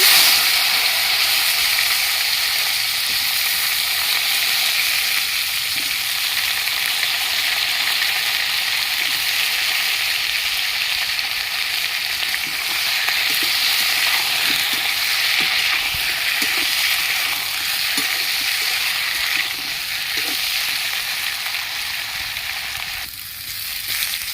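Eggplant and potatoes fry in a hot pan for a healthy summer vegetable dish, giving a steady, loud, broad sizzle that holds even throughout with no talk over it.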